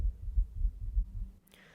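A steady heartbeat thumps low and close, about five muffled beats in a regular rhythm, ending with a brief sharp noise.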